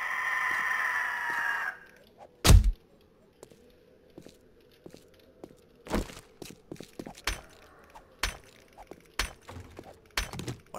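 In the survival game 7 Days to Die, a vulture lets out a harsh, rising screech, followed by a scattering of sharp, cracking hits and thuds as it attacks.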